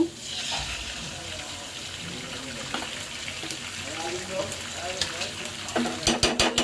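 An egg goes into fried onions in a pan and sizzles and crackles steadily at close range, with stirring scrapes and a few sharp clinks of utensils near the end.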